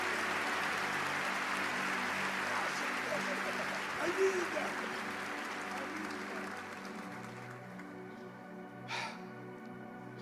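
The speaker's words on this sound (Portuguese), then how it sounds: "Você pode aplaudir o mais forte que você puder." An audience at a Brazilian motivational church event applauds steadily and loudly for a guest, a dense wash of clapping that thins toward the end, with voices mixed in.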